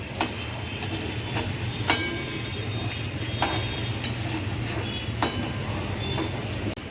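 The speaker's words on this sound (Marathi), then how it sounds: "आता हे बटाटे कच्चे बटाटे फ्राय करून घेणार आहोत." Raw potatoes frying in spiced masala oil, the same oil used earlier for brinjals, give a steady close sizzle with a low hum beneath it and a few sharp clinks of a stirring spoon against the pan.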